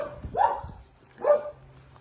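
A dog gives two short, sharp barks close by, spaced about a second apart, with quiet between them.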